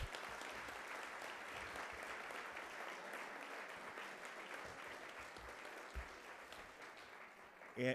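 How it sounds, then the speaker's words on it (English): Breakfast crowd applauding the year's honorees at a community awards event, a continuous wash of clapping heard from a distance and fairly faint, holding steady for several seconds, with a brief louder knock near the close. "Give them a big round of applause"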